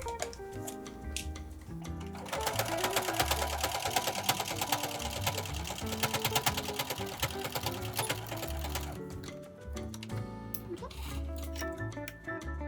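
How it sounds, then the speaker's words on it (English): A sewing machine works on an insulated fabric bowl cozy, starting with short bursts, then stitching in a sustained rapid rattle, pausing briefly to backstitch and resuming, with light clicks; quiet talk comes and goes. "I'm going to come to the end and stop and backstitch right here"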